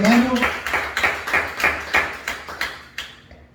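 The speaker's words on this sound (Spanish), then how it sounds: "Denle un aplauso al Señor" Applause breaks out during a church service, a run of rhythmic, fairly close claps that fade away, with a voice speaking at the very start.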